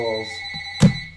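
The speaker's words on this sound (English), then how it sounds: "Sorry about that phone in the background here." A telephone ringing in the background indoors during a tonight with many incoming calls: a steady electronic ring tone with a brief knock near the end, moderately loud and fairly close.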